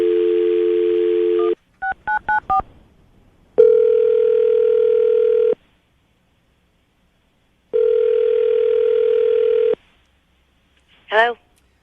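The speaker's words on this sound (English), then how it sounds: "I'm going to dial the phone number" A telephone dial tone hums, breaks for a quick run of touch-tone dialing beeps, returns twice as long steady tones, and ends with a short rising chirp.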